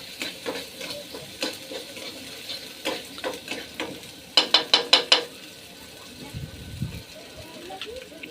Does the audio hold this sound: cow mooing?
no